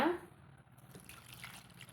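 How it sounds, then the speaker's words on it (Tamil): Water poured into a jaggery and banana dough for sweet banana paniyaram, kneaded by hand in a home kitchen. A faint, brief trickle and drip sounds quietly against a low background. "இப்போ நம்ம இதில் தேவையான அளவு தண்ணி ஊற்றி பிசைஞ்சு எடுத்துக்கலாங்க"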